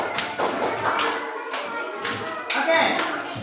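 A classroom of elementary pupils clapping in a few uneven bursts with loud taps and thumps between them, while children's voices chatter faintly underneath.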